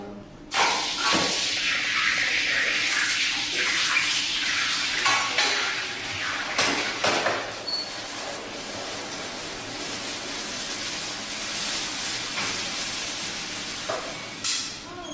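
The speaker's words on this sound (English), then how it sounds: "give this gold another reason to lose more heat, simply by placing it into this tub of water" Hot poured gold plunged into a tub of water gives a loud, steady hiss of steam that starts abruptly and holds for many seconds, with sputtering crackles and a few clinks in the first half.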